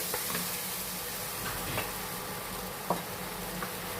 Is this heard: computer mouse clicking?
no